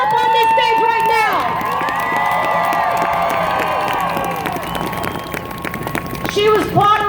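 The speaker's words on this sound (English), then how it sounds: "Give her a round of applause" A large outdoor crowd at the 2018 Women's March rally in New York City cheers, whoops and shouts loudly and continuously, with high yells rising over the roar and brief bursts of clapping near the end.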